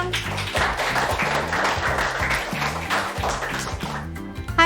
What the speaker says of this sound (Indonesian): tepuk tangan untuk Sulisang